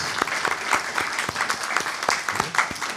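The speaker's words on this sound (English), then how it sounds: "Please join me in giving a big hand of applause to Maya and Ava for our outstanding grand prize winners." Audience at a town council meeting gives a round of applause for grand prize winners, a continuous roomful of clapping with distinct loud claps from nearby hands.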